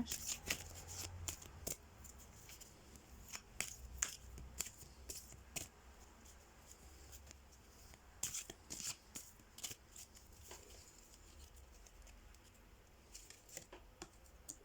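Tarot and oracle cards are shuffled and drawn by hand in soft, rapid riffling and flicking bursts with brief pauses between, close and quiet, with no talking.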